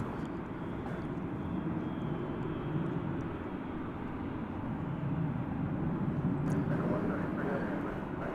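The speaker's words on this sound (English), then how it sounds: "It's going back to Monterey. It's an Airbus A321neo." A Viva Aerobus Airbus A321neo bound for Monterey rumbles at a distance as a broad, steady engine roar holds throughout.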